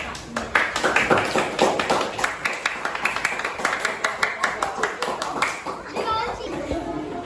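A group of second-grade schoolchildren in a classroom clapping together in a quick, steady rhythmic pattern, with lively young voices mixed in.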